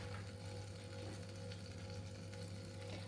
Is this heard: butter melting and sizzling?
yes